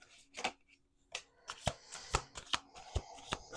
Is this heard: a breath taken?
no